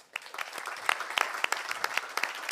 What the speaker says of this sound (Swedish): Vi kan ge honom också en varm applåd för detta